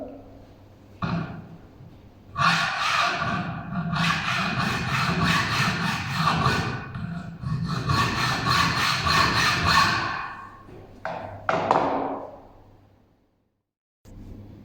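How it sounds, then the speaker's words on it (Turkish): A hand saw cuts in steady back-and-forth strokes, rasping loudly in two long bursts with short pauses between, then a few final strokes. "Kesme işlemi için el testeresi kullanırlar."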